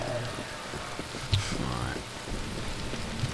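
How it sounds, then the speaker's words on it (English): Heavy rain pours steadily in the video game Dead Island, a dense constant hiss of falling water with a brief rumble, while a person talks over it. "It's raining really heavily now."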